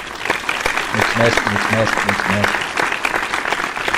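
Applause plays during an Unturned video game session, a steady clatter of clapping lasting several seconds while someone speaks over it.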